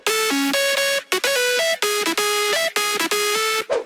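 A future house synth lead plays a bright, buzzy chopped melody with filter automation, loud and upfront in short rhythmic phrases.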